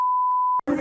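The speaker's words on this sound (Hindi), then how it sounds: "फोन आ रहा है मेरे फोन।" A phone gives off a single steady electronic beep, clean and sustained for about half a second, before a person starts talking.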